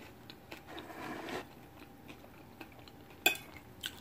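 Quiet crunching bites and chewing of tortilla chips dipped in creamy cilantro sauce, with faint clinks of dishes and one sharp crisp snap near the end, heard close with no talking.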